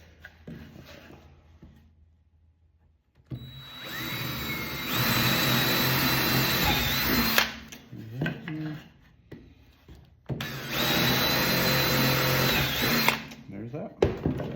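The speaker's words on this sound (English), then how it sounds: "So we'll go ahead and drill those holes now" A power drill bores holes through a handmade wooden sign in two loud, sustained whining bursts of several seconds each, separated by a quieter pause with faint handling noise.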